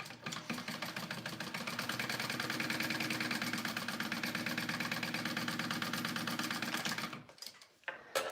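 A sewing machine top stitches a wallet, running steadily at speed with a rapid mechanical chatter for about seven seconds, then stops with a few clicks.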